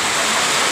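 Steady heavy rain falling outside a house, a loud dense wash of noise with no breaks, heard close and alone.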